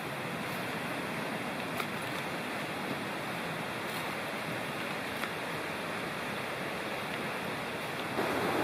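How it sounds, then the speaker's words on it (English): Creek water running down a hiking trail along the South Fork of Citico Creek, a steady broadband rush and gurgle close by, continuous and even throughout with a slight swell at the very end. "A little stream starting there, and unfortunately going right down the trail."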